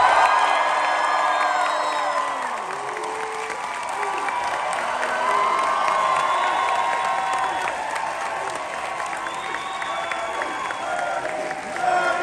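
A crowd at a Halloween Horror Nights panel at Midsummer Scream applauds, cheers and whoops as the creative director of Universal Studios Hollywood's event takes the stage, a loud sustained roar of clapping and shouts throughout.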